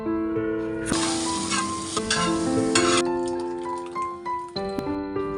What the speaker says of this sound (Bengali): আমি চামচ দিয়ে খুব সুন্দর করে যাতে একটু ভাজা হয় মাছগুলো